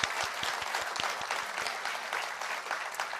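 A crowd at an Apple special event in March 2016 breaks into applause, a dense patter of many hands clapping steadily, heard from a distance.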